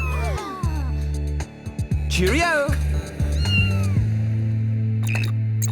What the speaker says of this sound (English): there's a little cat that needs a new home